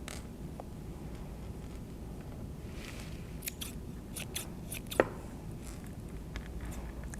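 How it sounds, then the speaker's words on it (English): Scissors snip steadily through a yarn pom-pom, trimming it into the rounded chin of an animal head; quiet, close, irregular cuts over a soft hiss, with a sharper snip standing out near the end. "I'm cutting at the moment what I am envisioning will be the chin"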